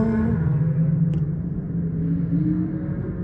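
Supercars including Lamborghinis, Ferraris, a Maserati and a McLaren roll along a Singapore road, heard from a distance as a continuous low engine rumble that swells and fades slightly as they pass.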